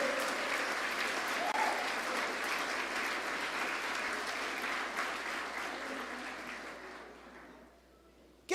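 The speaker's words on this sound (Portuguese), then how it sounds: "Você pode aplaudir a Ele nessa noite?" Church congregation applauding during an evening service, a broad continuous wash of many hands clapping that holds steady and then fades out near the end.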